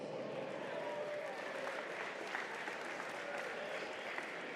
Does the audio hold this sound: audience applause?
yes